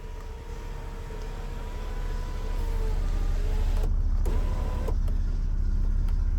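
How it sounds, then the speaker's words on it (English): Electric sunroof on a small car, a motor whirring steadily inside the cabin and ending with a few clicks as it stops, loud and close over a constant low rumble. "Look, the sunroof works on it, everything."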